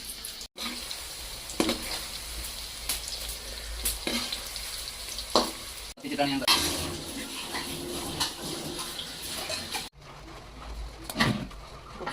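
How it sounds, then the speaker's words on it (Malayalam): Banana pieces deep-fry in boiling oil for jaggery-coated banana chips, with a constant bubbling sizzle, intermittent clinks and stirring scrapes, and a few brief cuts in the sound. "ഇനി നമുക്ക് തിളച്ച എണ്ണയിലേക്ക് കുറേശ്ശെ ഇട്ടിട്ട് വറുത്തെടുക്കാം."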